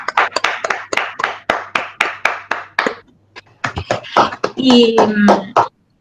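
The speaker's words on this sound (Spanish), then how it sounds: "para quienes pido un aplauso en este momento, aunque sea así virtual" A small group claps hand against hand at a virtual academic lecture, a run of distinct close claps that pauses briefly and then resumes more densely before stopping.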